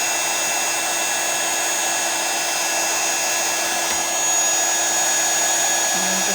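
A heat tool for melting embossing powder on a card runs as a steady, close, continuous blowing whir with a constant whine, unbroken for the whole stretch and with no talking.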